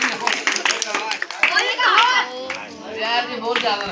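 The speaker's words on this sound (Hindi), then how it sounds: "ताली बजाओ।" Audience clapping breaks out in brief bursts at a magic show, mixed with children's voices and excited chatter, people talking loudly throughout.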